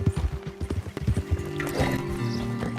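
Horse hooves clip-clop on the ground in Red Dead Redemption 2, a string of close, uneven thuds that slows and gives way to tack rattle and light background noise.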